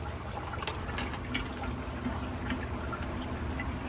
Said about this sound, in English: So that's a whole lot of bubbling.